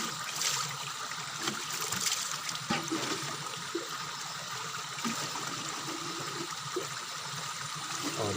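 Clear spring water flows steadily from an old hand-dug well, a soft continuous trickle and gurgle heard faintly at close range with no one talking.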